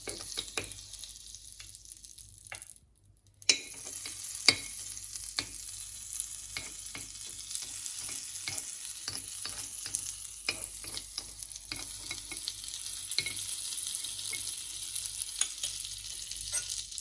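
Butter sizzles steadily in a paniyaram pan while making chocolate paniyaram, a close, continuous frying crackle with frequent small pops and clicks, broken by a brief pause near the start, with no talking.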